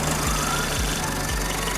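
A Mitsubishi Triton pickup being built as an off-road vehicle runs after a cold start, its engine holding a steady, loud, close idle with a low rhythmic throb throughout.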